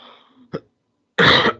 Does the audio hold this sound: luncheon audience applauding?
no